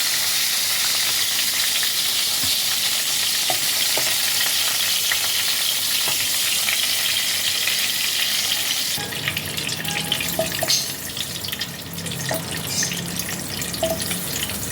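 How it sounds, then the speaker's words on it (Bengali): Pointed gourd (potol) pieces frying in hot oil, a loud, steady, close sizzle that turns rougher and more crackly partway through as the pieces are moved in the pan, with no speech. "পটলগুলো ভাজা ভাজা হয়ে গেছে।"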